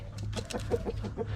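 A rooster clucks in a rapid run of short, close calls, fairly quiet, among the chickens on a backyard farm.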